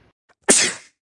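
One sharp, loud sneeze bursts out close up after a faint breath, then fades quickly into silence.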